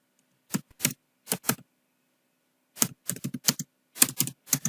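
Bursts of clicking keystrokes on a computer keyboard while writing a simple C program, typed in quick clusters separated by a long pause, close and alone with no talk.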